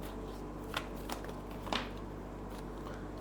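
Tarot cards being handled and drawn from a deck, giving soft papery flicks and a few sharper snaps over a steady low background hum, fairly quiet with no talking.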